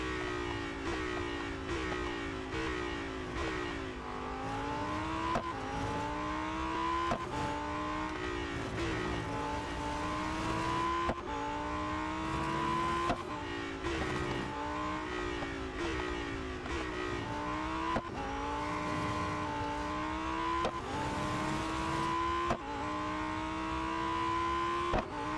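Lamborghini Huracan STO racing in the Real Racing 3 mobile game, a loud, continuous engine drone with repeated rising rev sweeps and gear shifts as it laps a circuit, no voices.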